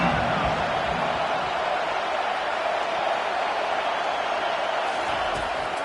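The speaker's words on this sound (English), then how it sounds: "Here comes this home crowd as the defense tries to get off the field on 3rd down." A packed home stadium crowd at a Michigan vs Iowa college football game roars loudly and continuously as the defense faces third down, a dense wall of sound with no breaks.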